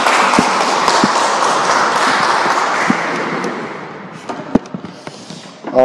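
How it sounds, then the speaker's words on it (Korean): A church congregation applauds the praise team with a thick, steady wash of clapping that thins out toward the end, leaving a few scattered claps and taps. "우리 찬양팀 감사드립니다. 우리 한번 박수로."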